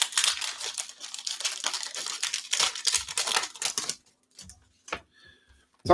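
Foil trading card packs being torn and unwrapped during a Saturday night card break, with loud continuous crinkling and crumpling for about four seconds, then a near-quiet stretch broken by a few short rustles and clicks.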